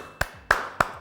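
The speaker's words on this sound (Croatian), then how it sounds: "Pljesak." Three sharp single hand claps, evenly spaced and close, in a Croatian-versus-Slovenian language game, alone without talk.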